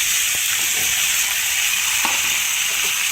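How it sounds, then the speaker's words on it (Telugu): Steady, close sizzling of washed ridge gourd pieces frying in hot oil tempering, a dense continuous hiss with a few faint clicks and pops. "ఇప్పుడు మనం వాటర్లో నీట్గా క్లీన్ చేసుకున్న పొట్లకాయ ముక్కలు వేసేద్దాం"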